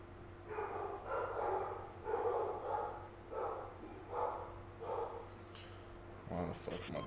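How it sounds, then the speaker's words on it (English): A pet dog barks repeatedly indoors in a steady series of muffled, somewhat distant woofs over a low electrical hum, with a person talking nearby during an online game session. "Why the fuck my dog's flipping out?"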